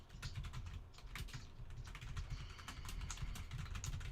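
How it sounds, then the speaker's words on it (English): Rapid, irregular clatter of keys being typed on a computer keyboard during a live hangout stream, continuous and fairly quiet with no talking. "Are you typing? I was."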